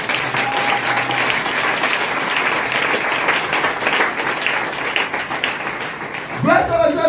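A church congregation breaks into loud, sustained applause praising the Lord, a dense wash of many hands clapping that continues for several seconds before a voice cuts in near the end.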